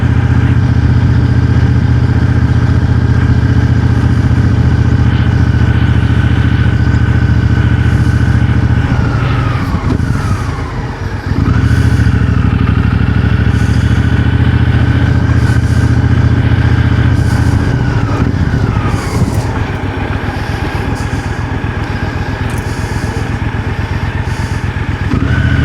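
Motorcycle riding on a road into the small town of Tooleybuc, its engine droning loud and steady throughout with wind rush, easing through a couple of brief gear changes.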